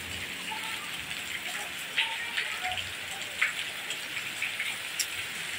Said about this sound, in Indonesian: Berapa kali ini hujan sih?